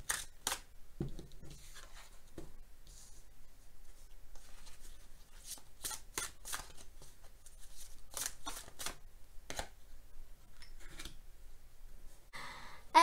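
Oracle cards are shuffled in a quiet room during a heart-chakra reading, producing repeated soft riffling bursts and slaps in irregular clusters, with faint rustling between them.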